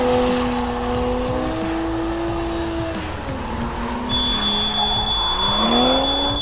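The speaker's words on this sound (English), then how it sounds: "You guys are gonna race across the basketball court and try to light up these smoke detectors with the smoke from the car as fast as possible." A Toyota GR Supra races across an indoor basketball court, its tires squealing in long, loud, wavering tones over a steady engine roar, with a high whine joining toward the end.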